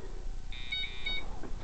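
IR laser jammer alarm gives a short run of high electronic beeps, two quick tones followed by another, close and clear over background hum.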